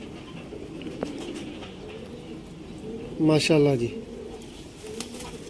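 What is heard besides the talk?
teddy pigeons cooing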